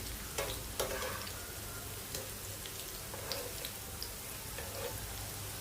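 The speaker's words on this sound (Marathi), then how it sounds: "हे बघा असे आपले छान असे फ्राय होत आले." Taro vadi, crisp fried colocasia-leaf rolls, shallow-frying in a pan on medium heat, giving a steady soft crackling sizzle with a few sharper pops and faint scrapes throughout.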